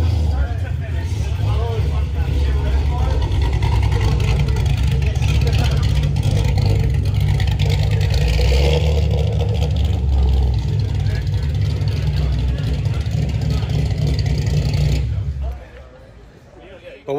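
A cammed, naturally aspirated three-valve 2005 Mustang engine running hard on a chassis dyno, a loud, sustained, lumpy engine drone that holds steady for about fifteen seconds before cutting off abruptly, with speech faintly underneath.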